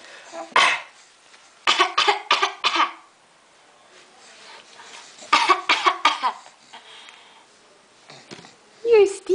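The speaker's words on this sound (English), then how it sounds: "Can we get a fake cough?" A young child gives several short put-on coughs in separate bursts, with sniffs and throat-clearing between them, close and fairly quiet, as an adult's voice talks in between.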